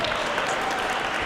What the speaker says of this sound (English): Another round of applause for the artists.